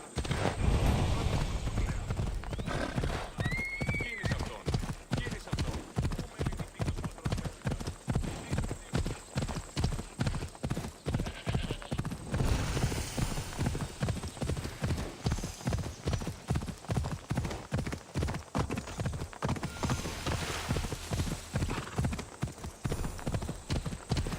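Horse hooves pound in a steady, fast clip-clop gallop during a ride in Assassin's Creed Odyssey, loud and close throughout with a whinny early on and a rushing background.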